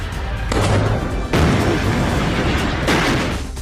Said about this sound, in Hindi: रूस की मिसाइल सीधे टारगेट पर गिरी और उसके धमाके से पूरा इलाका थर्रा उठा